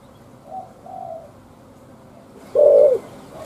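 A caged decoy spotted dove coos close by, with two soft low coos followed by a louder, sustained coo, against a quiet background.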